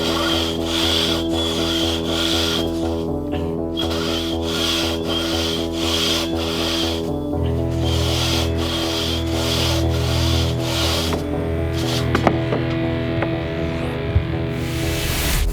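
A single buck saw cuts steadily back and forth through wood at a timbersports competition, a rhythmic rasp, close and continuous, the pitch and texture shifting partway through as the cut deepens.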